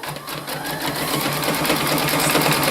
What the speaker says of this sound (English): You put the press-a-foot down and then you press go on the machine. And again, in the same way, the machine's going to stitch out,